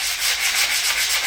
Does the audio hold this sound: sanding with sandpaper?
yes